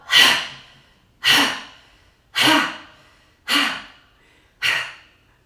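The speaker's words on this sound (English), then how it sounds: "take a deep breath in, and exhale out" Five deep, slow breaths during a guided meditation, each a breathy whoosh that swells quickly and fades over about a second, evenly spaced and close by.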